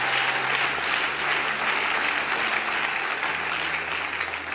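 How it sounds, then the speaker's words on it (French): A church congregation claps in sustained, dense applause that fills the room evenly throughout, with no clear voices above it. "Acclame le Seigneur pour la révélation de la parole."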